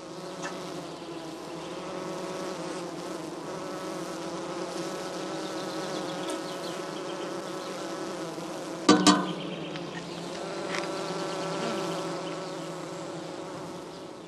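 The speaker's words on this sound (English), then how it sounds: "The bees are busy feeding their brood." Honeybees in straw skeps buzz steadily in a dense, continuous hum from a strong colony close to swarming, with a brief louder rustle partway through; no voices.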